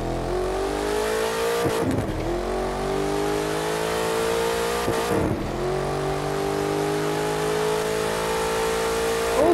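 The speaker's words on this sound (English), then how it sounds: "Let's rev it up to about 4." The Maserati Alfieri Concept engine revs in The Crew 2 racing game with a manual gearbox, rising in two loud climbing sweeps, each cut by a brief dip, over a constant engine drone.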